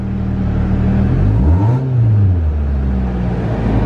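A Volkswagen engine that will not rev past 3000 RPM is run up and eased off in one rise and fall, its loud, close hum climbing in pitch and then settling back to a steady idle, with no talk.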